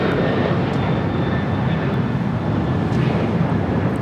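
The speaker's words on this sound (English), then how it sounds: "This is Alaska Airlines Flight 1348, taking off to Puerto Vallarta on a 737-900ER" Alaska Airlines Boeing 737-900ER on its takeoff run at LAX, bound for Puerto Vallarta: a steady, loud broadband engine roar that holds unbroken throughout, with no voices over it.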